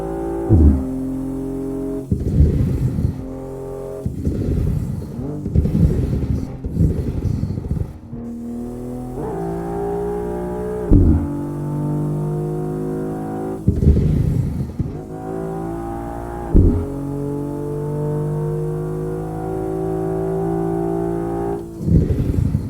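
Dense car traffic flowing on a road in the Assetto Corsa racing game, engines humming and shifting in overlapping waves with repeated pass-by surges, steady and fairly loud with no talk.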